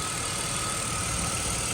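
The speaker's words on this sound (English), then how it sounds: "Idling smooth guys." A BMW car engine idles steadily with a smooth, even low rumble and a faint high whine, no voices.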